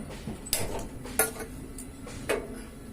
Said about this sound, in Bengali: এখন গ্যাসটা অন করে কড়াইটা বসিয়ে দেব